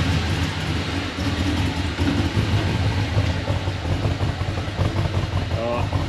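A WK Jeep Grand Cherokee fitted with a cam kit idles after a throttle adjustment, its engine holding a steady low rumble throughout while a person talks over it.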